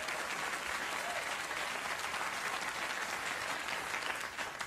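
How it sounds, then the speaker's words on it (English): A talk-show studio audience applauds, producing dense, even clapping that holds at a steady level throughout with no voices over it. "You people have applauded"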